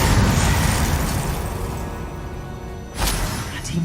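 A Confringo blasting spell goes off in Hogwarts Legacy as a loud, rumbling explosion, followed by a fading roar and a second sharp burst near the end.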